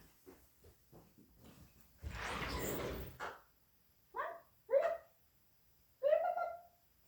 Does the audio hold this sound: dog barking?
yes